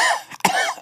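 One short, sharp cough, close and loud, with a brief throat-clearing onset.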